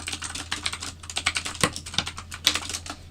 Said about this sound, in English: I'm just typing in the group.